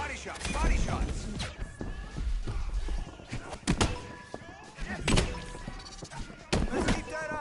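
Punches thud into boxing bags during a training session, a run of irregular dull thumps at close range over gym background noise and voices.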